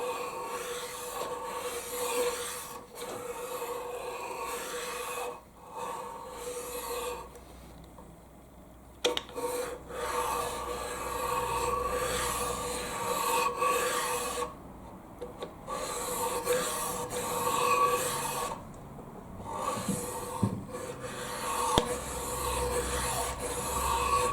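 A Peg FM-1 cylinder head repair machine cuts a cast-iron cylinder head with a close, continuous scraping, rasping sound, broken by a few short pauses and dips in intensity.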